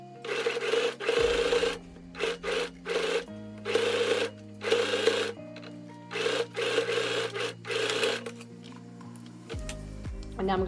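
Sewing machine stitching the back yoke seam of a gathered puff-sleeve dress, several short bursts of fast whirring stitching separated by brief pauses, with a soft musical background underneath.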